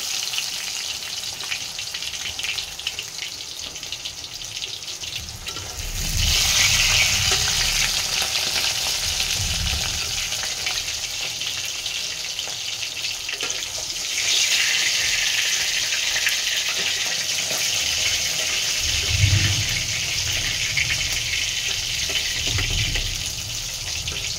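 Fried fish are dropped into curry in a wok, giving a loud sustained frying hiss that surges twice, with bubbling and brief low clatter, and no voices.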